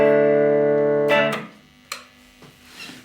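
A chord strummed on an Epiphone Les Paul Goldtop's neck pickup through a Vox AC4TV amp rings warmly for about a second, then is muted, followed by a few soft clicks and string noises.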